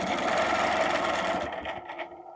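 Sewing machine stitching an arc in an embroidery design, a steady close mechanical whirr that slows and stutters to a stop near the end.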